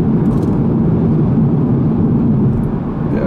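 A 2016 Volkswagen Golf R with DSG gearbox cruises at about 70 miles an hour, giving a steady, smooth low road and engine hum with no talking.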